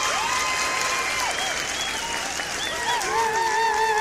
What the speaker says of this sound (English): Some crowd clapping would have been better.